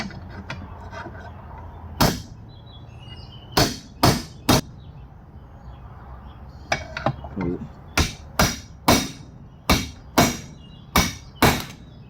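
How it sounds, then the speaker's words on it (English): Sharp, ringing hammer blows flattening metal in a fabrication shop, close and loud, starting sparse and then falling into a steady run of evenly spaced strikes. "you got to take and hammer him back flat a little bit here"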